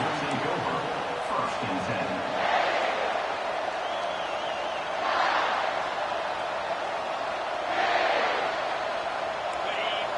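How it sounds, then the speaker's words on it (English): A college football stadium crowd in South Carolina cheers in waves, a broad roaring swell rising and fading about every two to three seconds beneath steady babble, heard from a distance at moderate level. "They challenge this crowd to bring the energy, and I'd say they're doing that."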